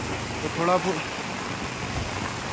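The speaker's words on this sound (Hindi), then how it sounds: "काफ़ी तेज़ बारिश है, देखिए काफ़ी लोग इंतज़ार कर रहे हैं बारिश रुकने का।" Heavy rain pours steadily over a market street in Nainital as a broad, even hiss, with someone talking briefly over it.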